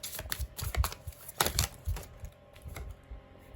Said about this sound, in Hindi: और एक बार शफल करते हैं।